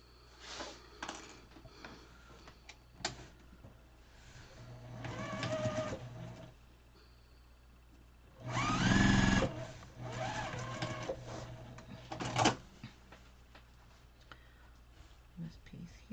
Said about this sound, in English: so we'll sew this piece on.